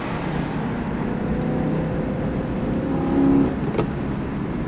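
BMW M3 E92 with naturally aspirated engine and DKG gearbox, driven in second gear, heard from inside with a steady engine drone that swells as the revs climb near the end, then eases off.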